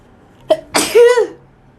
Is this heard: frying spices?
no